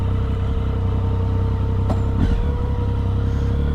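A motorcycle ridden through Tokyo morning traffic, a loud, steady engine hum from the rider's position with surrounding road noise and a couple of brief sharp sounds midway.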